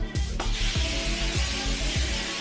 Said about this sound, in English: I just have an old cookie sheet here with some olive oil cooking spray that I'm just gonna spray the sheet with